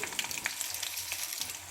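Garlic slices, mustard seeds, fenugreek and coriander seeds fry in hot oil for an Andhra bottle gourd curry, giving a soft, steady sizzle with tiny crackling pops, quiet and brief.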